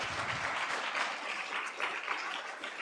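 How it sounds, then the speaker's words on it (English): An audience at the Swiss Game Awards 2023 ceremony claps in a steady, sustained burst of applause, a close, even rattle of many hands throughout. "Big round of applause for all of those people."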